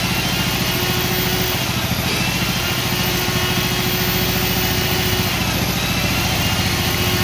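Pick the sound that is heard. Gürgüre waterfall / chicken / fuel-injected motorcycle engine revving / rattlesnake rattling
fuel-injected motorcycle engine revving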